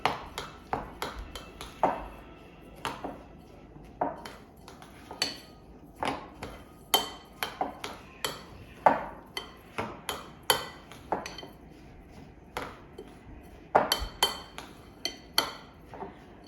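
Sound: mixing snack ingredients in a bowl

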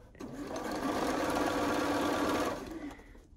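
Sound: sewing machine stitching a quilt seam

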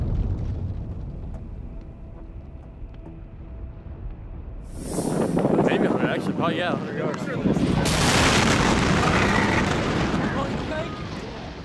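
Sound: ammonium nitrate explosion

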